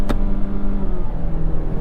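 A 2022 Mazda CX-9's engine holds a high, steady rev near 6,000 RPM, a loud sustained drone heard from inside the car with a brief sharp click at the start.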